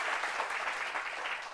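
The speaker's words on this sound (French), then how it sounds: "Donc applaudissements déjà pour le syndicat, s'il vous plaît." Applause for a trade union on a French talk show: dense, steady crowd clapping that holds at full level through the whole short stretch, with no voices breaking through.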